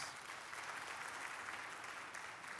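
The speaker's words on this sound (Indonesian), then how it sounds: "Tepuk tangan buat Tuhan Yesus." Worshippers at a church service applaud together, a steady, even roar of dense clapping heard from a distance and fairly faint, with no voices rising above it.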